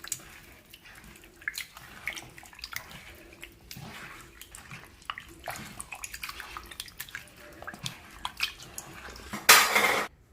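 Ground coconut milk poured into Thrissur-style sardine fish curry and mixed by hand in a pot, giving soft wet sloshing and small clinks of vessels, steady and close with no talking, ending in a brief louder splash.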